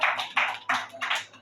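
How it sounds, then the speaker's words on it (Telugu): A church congregation claps their hands together in four sharp, evenly spaced bursts of many hands. The applause is close and fairly loud, with no talking over it. "గట్టికి చప్పట్లు కొడతాం హల్లెలూయా"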